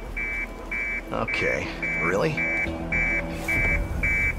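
Alarm sounding in the video game Hitman, a regular pulsing beep repeating about twice a second, with people talking briefly over it.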